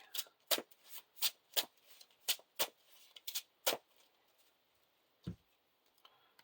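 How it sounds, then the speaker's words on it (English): A deck of playing cards being shuffled during a Lord of the Rings card game, heard as a quiet, close run of crisp riffling ticks and snaps with a pause, then one final soft tap. "Shuffle the next card in my deck."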